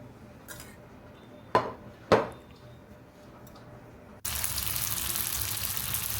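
Rice paper cheese dumplings frying in a little oil start with a few quiet clinks and two sharp knocks, then give way to a steady, close sizzle.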